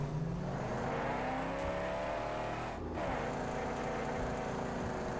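A car engine drones while driving through the desert, holding a steady, strained tone that rises and dips through a gear shift midway. It plays alone with no talking.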